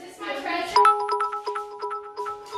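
A doorbell chimes in a quick repeated ding-dong pattern, ringing several times in succession after a voice speaks briefly at the start.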